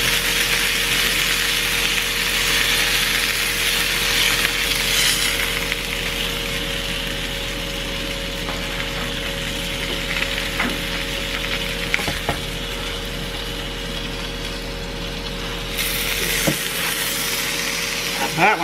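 Smashburger tacos fry in a pan with a steady, loud sizzle and crackle that holds throughout, easing briefly near the end before picking back up.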